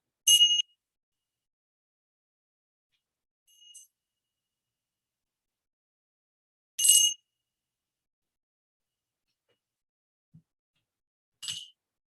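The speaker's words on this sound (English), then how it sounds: "And I'll ring the bell to officially start us." Meditation bell rung to open a class, with four bright, clear strikes spaced across a near-silent room, the first and third loudest, each ringing briefly before fading.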